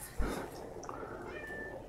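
A cat meows inside the video game Little Inferno, giving one short, fairly quiet call over a soft background bed.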